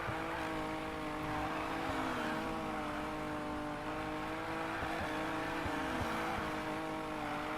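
A car drifts in the Need for Speed Payback video game, its engine droning steadily at high revs while a sustained, wavering tire squeal rises and falls, loud and continuous throughout.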